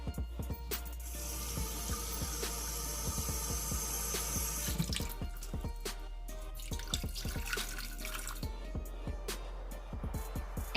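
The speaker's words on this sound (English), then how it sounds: "I'm going to start with my 1 cup of water" Water runs from a kitchen tap to fill a cup for making candy apples, a steady splashing stream with irregular drips and clinks that shifts in tone midway as the vessel fills.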